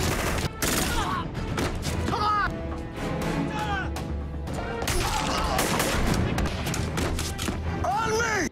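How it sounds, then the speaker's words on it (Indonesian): Gunfire trades back and forth during a film shootout, loud and dense bursts of shots and crashes running throughout, with music and effects layered together and brief voices mixed in. "Keduanya saling melepaskan tembakan dan terjadi pertarungan"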